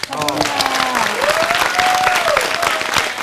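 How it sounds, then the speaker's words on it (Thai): A studio audience on a Thai television show applauds loudly and continuously, a thick steady roar of clapping with a voice talking over it. "แล้วก็ขอปรบมือให้ครับ"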